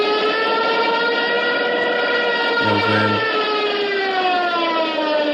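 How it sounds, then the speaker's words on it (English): A loud, sustained wailing Stuka dive bomber siren, the World War 2 Jericho trumpet, with rising harmonic tones fills the whole stretch, steady and intense, with a brief low rumble midway and a voice barely present. "the Jericho trumpet or the Stuka siren"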